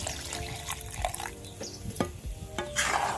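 Rohu fish roe being stirred with a little water in a pan: soft wet scraping and stirring strokes with light bubbling, faint and close, no talking.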